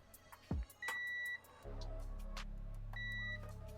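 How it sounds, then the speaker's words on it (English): Two short electronic beeps from a Waldo 60 keyboard circuit board, each a steady tone, separated by a pause, over a low mechanical hum. "I want you to beep. There we go. It beeps now."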